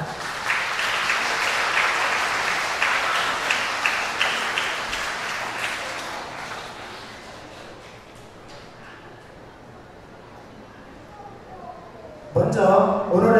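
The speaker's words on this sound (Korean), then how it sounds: "뜨거운 박수 부탁드립니다." Wedding guests in a wedding hall give sustained applause at the start of the ceremony. It fades out after several seconds, leaving quieter room sound, and a new burst of sound rises near the end.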